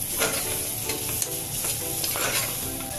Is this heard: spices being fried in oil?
yes